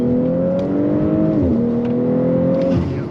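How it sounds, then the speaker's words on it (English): A 2022 Audi S4 Premium Plus sedan with a supercharged engine and lowering kit accelerates at full throttle, its engine note climbing steadily through two gear shifts, heard clearly from inside the cabin with no talking. "Once I get straight, I'll put the pedal to the floor and see how this thing accelerates."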